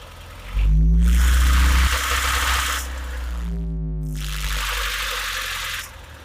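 A 1992–95 Honda Civic Genio Estilo engine being tested for a cylinder sensor fault revs up twice as throttle is added, each time a loud, rising roar that holds steady before easing off.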